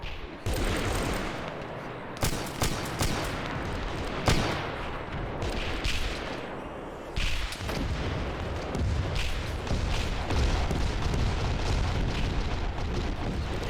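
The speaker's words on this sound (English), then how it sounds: "Have that airstrike coming in." Heavy airstrike explosions in a video game: a run of loud, close booms and blasts landing in rapid succession, some sharp and some rumbling, with little pause between impacts.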